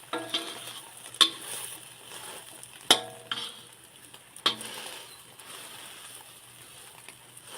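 Eggs with salid flowers frying in a pan make a soft, crackling sizzle close by, broken by a few sharp clinks of a utensil against the pan at irregular moments.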